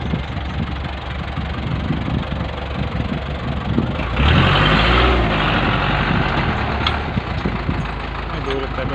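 A cattle cargo truck in Sindh idles with a knocking diesel rumble, then surges louder as it pulls away before easing back to a steady engine note, with people talking throughout.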